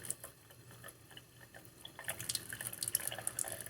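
Water drips and trickles onto tissue paper in soft, irregular taps, turning into a busier patter of drops toward the end.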